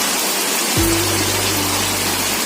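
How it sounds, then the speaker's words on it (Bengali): Heavy rain pours steadily during a flood, a dense broadband rush of falling water that stays loud throughout, with a low rumbling layer joining partway through. "প্রচুর পরিমাণে বৃষ্টি হচ্ছে প্রচুর বন্যা হয়ে যাবে এবার মনে হচ্ছে"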